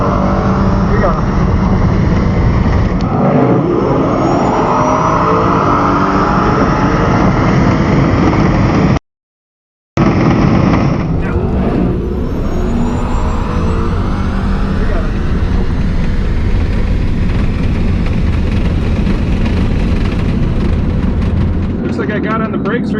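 A Tesla Plaid launches from launch control on a drag strip Sportsman tree, a loud, sustained rush of motor whine, tire and wind noise that builds over the run, with a brief dropout partway and talk mixed in.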